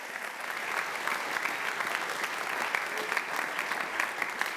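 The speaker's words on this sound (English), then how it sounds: "so give yourselves a round of applause" Audience applause at the 2025 LEAFYs awards ceremony: steady, dense clapping from a large crowd sustained throughout, fairly even in loudness with no speech over it.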